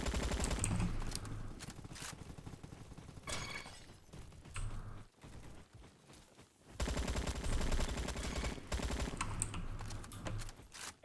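AK-47 automatic fire in the Roblox game Bad Business, loud dense bursts of rapid shots in long sustained strings, broken by a short quieter gap before the firing resumes.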